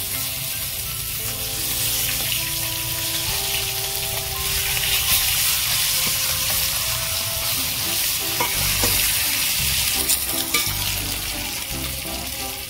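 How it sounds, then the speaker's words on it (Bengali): Koi fish fry in hot oil in a pan, giving a loud, steady sizzle throughout, with stirring scrapes and occasional crackles over the frying. "আপনারা যখন কই মাছ ভাজবেন, এভাবে আমার মতো প্রথমে নাড়তে থাকবে"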